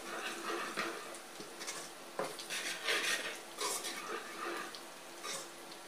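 Chopped garlic fries with softened onions in a pan, a steady soft hiss and crackle with occasional spatula scrapes and knocks against the metal, close by and fairly quiet, with no talk.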